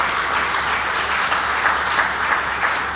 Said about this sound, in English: Another round of applause for Governor